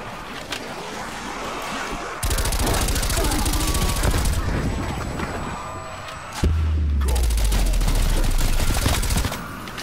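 Rapid gunfire from a zombie video game, bursts of automatic and repeated shots continuing loudly for several seconds with brief gaps, while players talk over it.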